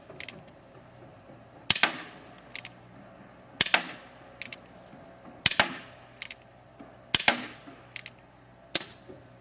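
Umarex Single Action Army CO2 airsoft revolver fired single-action, cocked between shots: six sharp cracks spaced about a second or two apart, each followed by small mechanical clicks, close and alone.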